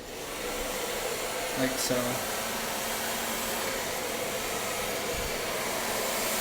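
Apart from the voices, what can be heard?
hair dryer blow drying hair with flat square brush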